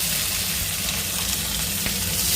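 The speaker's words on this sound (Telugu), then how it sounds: "ఒక మూకుడు పెట్టి ఆయిల్ వేసిన, ఆవాలు, జీలకర్ర, పచ్చిమిర్చి, కరివేపాకు" Mustard seeds, cumin, green chilies and curry leaves sizzle steadily in hot oil in a pan, a dense close frying hiss with faint crackles throughout and no voices.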